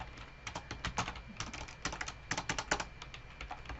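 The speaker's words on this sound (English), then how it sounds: "If I could type." Rapid, uneven clatter of keys on a computer keyboard, a close run of taps with short pauses, typing in notes for a booked Southwest flight.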